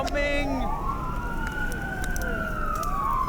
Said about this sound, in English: Sirens off in the distance.